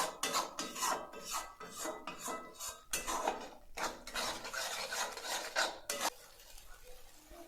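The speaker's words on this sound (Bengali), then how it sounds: "আমি আরও ভালো করে কষিয়ে নিচ্ছি" Katla fish curry masala with yogurt and cashew gets stirred and sautéed in a pan, a spatula scraping the pan in rhythmic close strokes with a soft sizzle, then stopping near the end.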